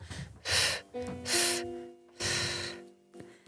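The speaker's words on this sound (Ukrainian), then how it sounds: "Зараз набираємо дихання, затримуємо його." A studio group draws in deep breaths together, three long audible inhalations close to the microphone, with a soft hum of sustained tones in between.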